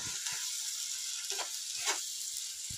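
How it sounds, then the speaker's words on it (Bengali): Spice masala of chilli and cumin powders sautéing with a little water for Bengali crab kosha, a steady close sizzle with a few soft stirring scrapes and clicks, no talk. "অল্প অল্প জল দিয়ে এই মশলাটা কষে নিতে হবে"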